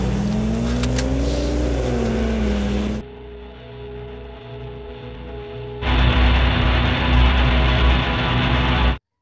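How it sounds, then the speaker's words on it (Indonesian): A car in a war film scene roars as it speeds away, a loud engine drone with revving pitch changes, broken by abrupt cuts into a quieter hum and then a louder, rougher engine rush. "Kesempatan itu membuat Jesse, Joe, dan Lee kabur dengan mobilnya."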